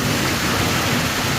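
Heavy rain drums on the tin roof of a barn in a loud, dense, continuous patter, a close and steady roar with no voices.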